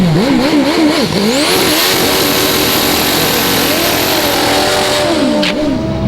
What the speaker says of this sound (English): Don't be deceived by the smooth idle on this bike.